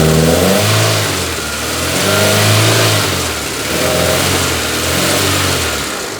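A Proton Satria car engine, just fitted with new fuel and air filters, revs up and down in slow repeated swells, loud and close, with the engine note rising and falling in a steady cycle and no voices.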